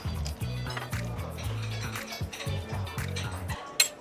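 Shrimp from a Chinese menu is spooned onto a plate, with quick rhythmic clinks and scrapes of utensils against dishes and a sharp clatter near the end.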